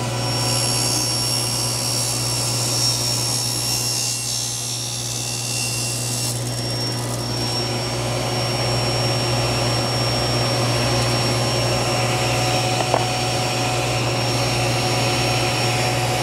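Table saw trimming a veneered wooden box lid on a crosscut sled, a loud continuous whine that shifts pitch partway through as the blade meets the workpiece, sustained and close with no talking.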